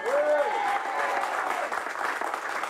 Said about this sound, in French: faites-moi le plaisir de les applaudir très fort